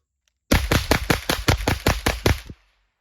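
A .22 rifle fitted with a CMMG 22 conversion kit fired in a rapid mag dump, about ten sharp, loud, close shots in quick succession over two seconds, then a short ringing tail into silence.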